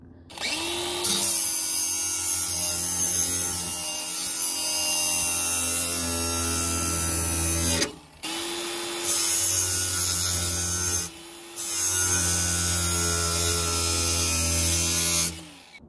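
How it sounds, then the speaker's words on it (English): An angle grinder with a flap disc grinds a lawn mower blade held in a vise, whining loudly and steadily through three long passes separated by brief pauses. "use an angle grinder with a flap disc"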